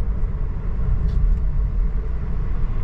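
A Tesla electric car rolls along a road in Bavaria toward Berchtesgaden, heard from inside as a steady low rumble of tires and road noise with no engine note and no talking.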